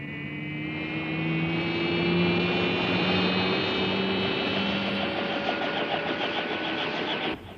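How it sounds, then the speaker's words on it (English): A rescue helicopter flies steadily nearby, its engine drone sustained and fairly loud, with a rhythmic mechanical whine and a steady rotor chop throughout. "Hitch the cable to the copter, Ralph."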